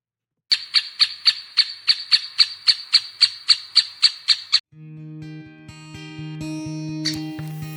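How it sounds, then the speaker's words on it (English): A woodpecker gives a dozen sharp, evenly spaced calls in a steady rhythm, followed by sustained tonal sounds. "what you find is the woodpecker's call. It's quite distinct, not very pretty."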